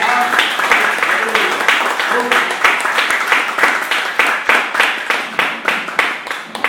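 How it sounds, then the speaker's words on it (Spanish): Congregation clapping in a church during a sermon, strong and steady, settling into rhythmic, evenly spaced claps toward the end, with some voices faintly underneath. "¿Cuántos le aplausos a Jesús de Nazaret?"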